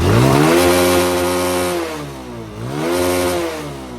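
A modified Suzuki Fiero motorcycle with a 160cc conversion and quick throttle revs loudly up close, rising to a buzzing peak, dropping, then revving sharply again in two distinct throttle blips.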